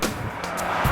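Road and tread pattern noise heard from inside a car riding on Sumitomo Touring LST all-season tires, a steady broadband rumble and hiss at close range with no talking.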